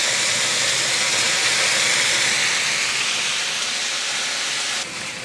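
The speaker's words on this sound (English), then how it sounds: "Then we can add our bok choy." Bok choy goes into a hot stir fry pan with beef and soy sauce, raising a loud, even hissing sizzle, almost steam-like, that eases a little and drops suddenly near the end.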